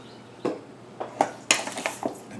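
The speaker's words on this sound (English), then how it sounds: "I'll stir this around well, okay?" A utensil stirs apricot pie filling in a bowl, giving a series of close, irregular clinks and scrapes against the bowl, about eight sharp knocks, with no talk.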